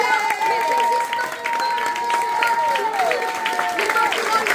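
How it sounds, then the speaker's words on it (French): An audience at an intimate concert at Le Gueulard in Nilvange breaks into applause, a dense, continuous patter of clapping that runs under a sustained tonal hum. "J'aimerais qu'on fasse un tonnerre d'applaudissements à toute l'équipe du Gueulard"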